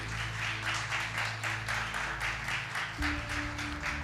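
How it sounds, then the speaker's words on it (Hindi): At a church gathering the congregation claps loudly for God, a long series of rhythmic group claps in steady beat over a low sustained hum, fairly faint in level. "और उस महान परमेश्वर के लिए एक जोरदार ताली"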